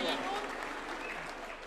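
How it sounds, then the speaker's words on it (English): Applause from a political rally audience in Kenya, a dense patter of clapping with some voices mixed in, heard briefly. "A round of applause for Leader of Majority"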